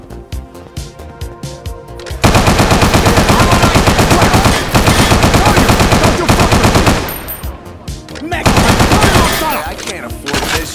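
Sustained loud machine gun fire in the video game Scarface: The World Is Yours, during an attack on O'Grady's liquor store, with dense rapid bursts and brief pauses, preceded by quieter music and voices.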